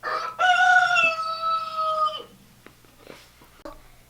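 A rooster crows once, loud and close, with a long drawn-out call, followed by a few faint clucks and rustles.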